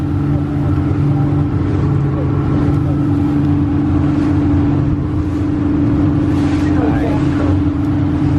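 A boat engine drones steadily throughout, loud and close, with a constant low hum and wind or water noise over it.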